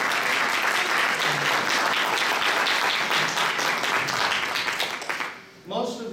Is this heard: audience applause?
yes